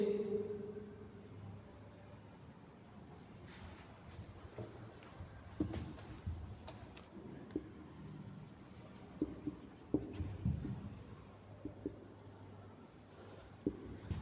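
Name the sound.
writing on a board or paper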